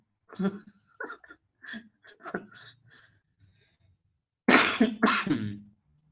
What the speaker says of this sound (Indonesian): sorry Bapak Ibu ya kalau mengganggu batuk saya ya